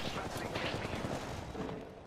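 Rapid bursts of gunfire from an Apex Legends match during a custom-lobby scrim, a dense continuous volley lasting about two seconds, mixed with a player's voice talking over it.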